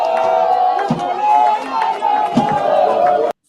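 A crowd in Gabon cheers soldiers standing on a raised stage during a coup, a dense clamor of shouting voices with a few sharp knocks, loud and close, cutting off abruptly.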